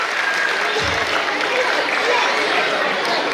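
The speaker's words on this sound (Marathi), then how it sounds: "बघा, टाळ्या वाजवल्या की तुम्ही अशा टाळ्या जर वाजल्या त्यांचं रडणं बंद होईल." A large audience at a stage event claps steadily and loudly throughout, a thick continuous wall of applause with crowd chatter mixed in.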